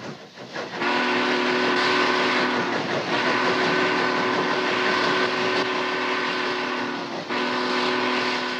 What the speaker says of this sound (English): That type had what we termed the steamboat whistle, which was a low moaning type whistle.